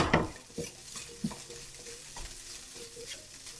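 Tofu pressed flat in a skillet fries with a soft continuous sizzle, opening with a loud scrape and knock of the utensil against the pan, then occasional lighter taps and scrapes.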